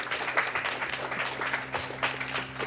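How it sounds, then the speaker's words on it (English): A live audience at a speedrunning marathon event claps in a moderate, fairly quiet patter that continues throughout, with a low steady hum underneath. "Very timely applause there."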